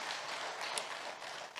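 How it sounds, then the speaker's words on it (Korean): Brief, moderately close burst of congregational clapping in a church during a Sunday worship sermon, a steady patter of many hands with no talk over it. "박수가 나오네"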